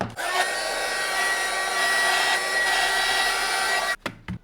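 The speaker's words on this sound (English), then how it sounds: "Now we will use this heat shrink tube in here. Now we need our hot air gun." A hot air gun blows a continuous loud whooshing roar while shrinking heat shrink tubing on a money counter repair, cutting out abruptly near the end with a few clicks.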